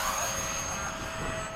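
A model MiG-21 jet makes a low pass at an airfield, giving a steady, fairly loud whining engine roar with a high tonal whistle throughout.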